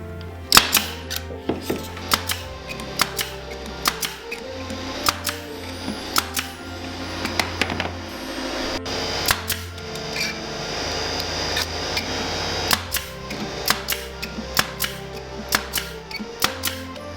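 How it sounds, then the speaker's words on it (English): Staple gun driving staples along the top trim of a wooden farm-style box, glued in place, giving a steady series of sharp, close clacks at irregular intervals over light scraping and handling noise. "putting a bead of glue across it, and stapling along the top"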